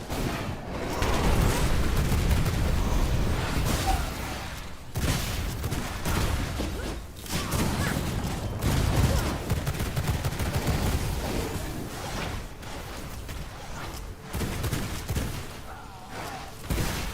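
Pistol gunfire in the vampire survival game V Rising, rapid shots crackling almost continuously for long stretches amid dense combat noise, with only brief lulls between bursts.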